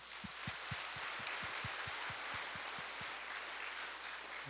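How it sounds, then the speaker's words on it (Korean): Church congregation applauding to welcome new members during a Sunday morning service, a steady, even wash of clapping from a large crowd with regular low thumps underneath, moderately distant and without speech. "동산의 가족이 되신 분들께 마음을 담아 박수로 환영하겠습니다."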